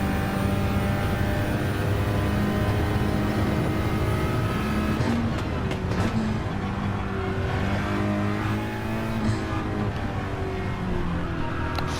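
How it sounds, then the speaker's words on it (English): A front-wheel-drive race car in a racing video game revs hard out of a corner at Suzuka as its front wheels begin to spin. Engine pitch climbs and steps through shifts in a loud, continuous whine, with no talking. "trying to get the revs up, but being front wheel drive, the front wheels, you could hear them beginning to spin"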